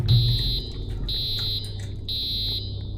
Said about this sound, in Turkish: Alarmı hemen kapatmamız lazım.